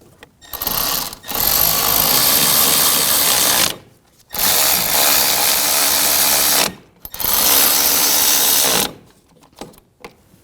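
Three long, loud bursts of an air impact tool spinning in wheel hub bolts on a 2006-2009 Audi S4 during a rear hub bearing module replacement, each lasting a few seconds with short pauses between, close and harsh.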